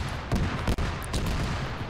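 Rapid gunfire from ARMA 3, a military shooter, sounds as a few dense bursts of shots close together over a steady low rumble, loud and close throughout.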